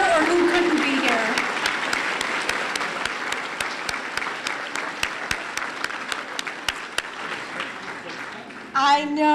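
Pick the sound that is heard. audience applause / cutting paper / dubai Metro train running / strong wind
audience applause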